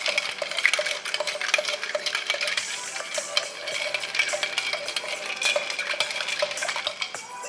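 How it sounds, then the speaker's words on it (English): A bar spoon stirs a Rob Roy or Manhattan cocktail with Angostura bitters in a mixing glass, giving a steady, close run of bright clinking and scraping of metal and ice against glass for several seconds, with no talk. "take your bar spoon and give it a nice stir to it for about 30 seconds or more"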